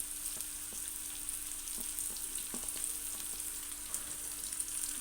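Green chilies sizzle steadily in a hot pan for a soya chunk tomato curry, a close, continuous frying hiss with a few faint pops and no voices.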